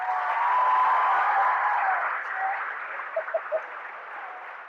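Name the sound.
audience applause for a cheerleading team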